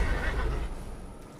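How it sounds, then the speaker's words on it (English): Spectral steed from the video game Elden Ring whinnying in fright, a single loud, close neigh that trails off over about a second and a half. "The spectral steed is frightened."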